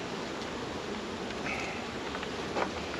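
Honeybees at a weak hive with only a few workers make a continuous, even buzzing hum, with breezy, rustling outdoor air and a brief louder flutter near the end.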